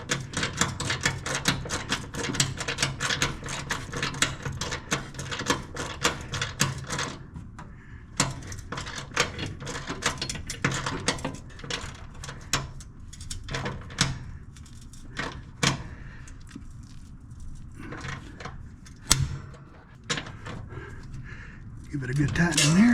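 Metal clanks and ratcheting clicks from hand-tightening bolts on a mower deck bar of a John Deere S140 lawn tractor with a 48-inch deck, a dense run of close, sharp taps and jangles that thins into scattered clicks.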